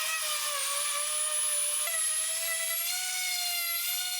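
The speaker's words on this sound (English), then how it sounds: "I'm starting off with 80 grit sandpaper and will work my way up the sanding grits until I get a smooth finish" Power sander with 80 grit sandpaper working over a walnut and epoxy river table, giving a steady, high, whining drone that hardly wavers and shifts pitch once partway through.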